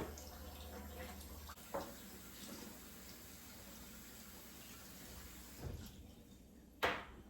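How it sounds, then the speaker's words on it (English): Cold water poured into a bowl of egg white, a faint trickle with a couple of brief splashes and clinks over a quiet kitchen background. "I need to add 1 tablespoon of cold water."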